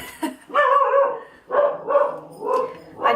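A pet dog barks indoors in a series of about four loud, close, whining barks at irregular intervals.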